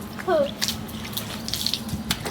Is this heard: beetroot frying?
no